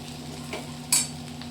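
Val bean pods cooking in a pan give off a soft continuous sizzle, broken by a quick metallic scrape of a utensil against the pan partway through, close and fairly quiet.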